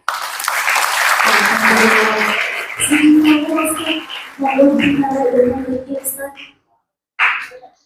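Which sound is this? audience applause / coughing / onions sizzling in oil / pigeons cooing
audience applause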